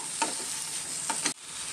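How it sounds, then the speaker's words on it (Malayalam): Ripe banana and sugar are stirred in a frying pan over a steady sizzle, with two or three soft scraping strokes of the spoon before the frying noise briefly drops. "ഇളക്കി യോജിപ്പിച്ചെടുക്കാം."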